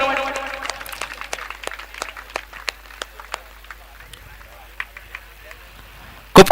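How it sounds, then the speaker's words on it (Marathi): Sparse, scattered hand claps at a cricket trophy prize distribution ceremony, individual claps spread across several seconds and fading, followed by a sudden loud burst at the very end. "टाळ्या वाजवते सर्वांनी"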